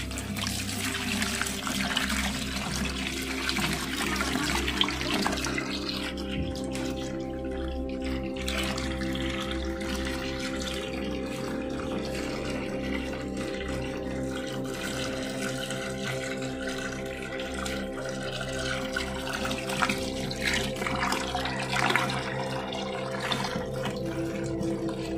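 Water pours in continuously to refill a cleaned aquarium for predator fish such as arowana, alligator gar and oscar, a steady moderate rushing and gurgling stream with no voices.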